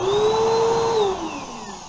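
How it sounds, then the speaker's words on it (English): A Bissell upright vacuum cleaner with a faulty belt and non-spinning brushes runs close by, giving a loud, steady motor whine that dips slightly in pitch partway through, with no talking. "here's the vacuum we're working on today. It's a Bissell."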